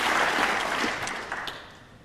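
Spectators at the 2002 World Pool Championship applaud a well-played shot, a brief burst of clapping that starts full and gradually fades away.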